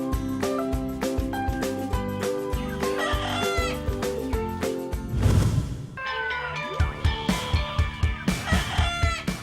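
A Sebright chicken clucks and crows close by, with rapid repeated clucks, a drawn-out crow and other birds calling underneath.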